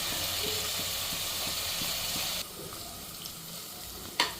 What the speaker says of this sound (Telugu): ఇది వేగుతూ ఉంది, ఇంకొంచెం వేగాలి.